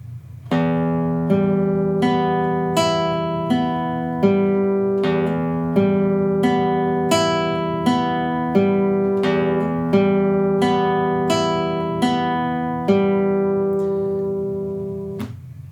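An acoustic guitar plays a steady fingerpicked pattern, plucked notes ringing one after another in an even, repeating rhythm over a sustained bass.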